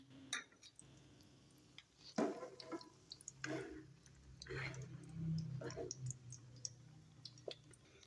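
Freshly fried chicken shami kababs are moved into an empty dish, giving scattered light clicks and clinks of utensil against cookware, several sharp taps amid quiet kitchen background and a faint hum.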